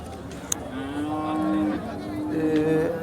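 HF cows low in long drawn-out moos, one after another, against a noisy outdoor background of the busy, muddy Sangola cattle market.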